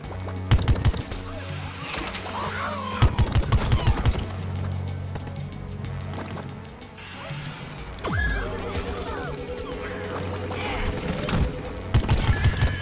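Bursts of rapid gunfire from the Plants vs Zombies Garden Warfare 2 video game, loud volleys near the start and again around three and twelve seconds, mixed with game effects and background music.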